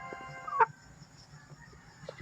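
Gold hatch rooster in a backyard breeder's bamboo coop gives a single short cluck with a brief squawk near the start, then only faint background noise follows.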